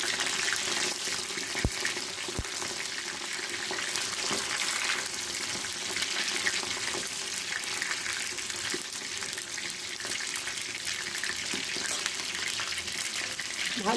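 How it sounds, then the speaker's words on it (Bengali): Brinjal pieces fry in a pan for a Bengali kalaunji, giving a steady, close hiss of sizzling oil with only a couple of faint clicks. "ভাজা হোক"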